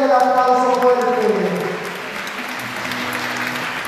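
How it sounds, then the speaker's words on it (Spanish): A congregation at a Sunday Mass gives loud applause that rises under a sung or spoken voice at first, then continues as a steady wash of clapping. "Y denle el aplauso fuerte."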